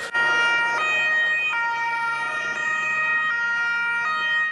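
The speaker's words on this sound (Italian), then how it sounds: "Le sirene squarciano il silenzio della notte di Palermo." Emergency sirens wail at night in Palermo, a loud, steady two-tone siren that switches pitch at regular intervals and carries on without a break, with no voices over it.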